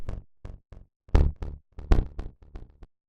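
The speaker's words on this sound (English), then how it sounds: "the original synth that I started with has now changed to something else" Short, plucky synth notes in a sparse, halting rhythm, some hits stronger and brighter than others, with silent gaps between them.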